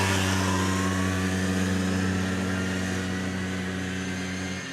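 Polaris four-wheeler with a two-stroke engine running steadily at a buzzy, held rev close by, a sustained droning tone that ends abruptly.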